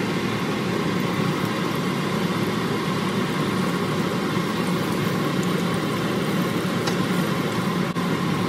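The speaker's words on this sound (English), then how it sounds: "Turn on the exhaust fan" Kitchen exhaust fan running at a steady, loud level, a continuous whooshing drone with no pauses or speech.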